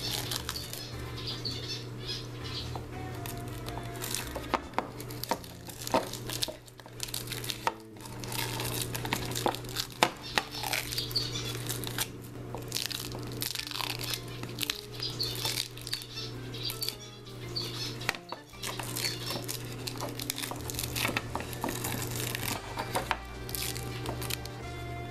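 Plasti Dip coating being peeled off a painted surface crackles and crinkles continuously for a long stretch, with irregular sharp tearing snaps over a constant low background hum, close and fairly quiet.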